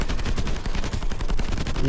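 Continuous rapid gunfire while shooting zombies in the zombie mode of Call of Duty Mobile, a dense stream of close, loud shots with no pauses.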